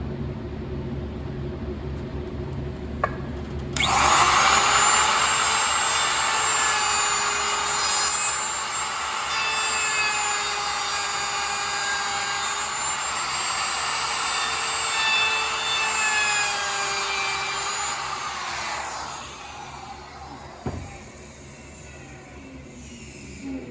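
A bearing-guided router bit cuts along the edge of a wooden shelf with a loud, steady high-pitched whine and rasp lasting about fifteen seconds, then stops and winds down.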